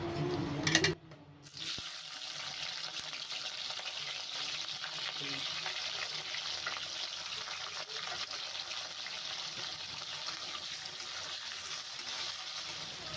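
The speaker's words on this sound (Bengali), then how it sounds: "ক্যাপসিকামটা ভেজে নেব" Capsicum frying in oil for a Bengali-style mixed vegetable dish makes a steady, loud, continuous sizzle that runs for more than ten seconds after a short clatter at the start, with no speech.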